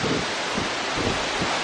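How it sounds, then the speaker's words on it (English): Strong wind buffets a covered microphone on an exposed hilltop near Avebury, a steady roaring rumble with gusty low thumps throughout, loud and continuous with no talking. "I'm covering the mic. That's how windy it is"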